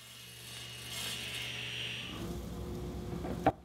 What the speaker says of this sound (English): The next step is to set up a stop block on the crosscut sled and cut them to length.